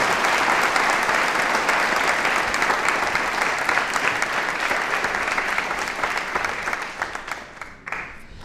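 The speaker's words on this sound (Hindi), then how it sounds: "तालियां बजाइए" Sustained applause from an audience at an election-themed quiz show held at an institute of technology and management, dense steady clapping that fades toward the end.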